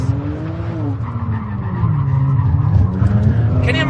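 A Kia Stinger drifting at the SEMA 2017 show, its engine revving hard with steady tire squeal and skidding throughout, loud and close; a few voices are briefly audible over the roar.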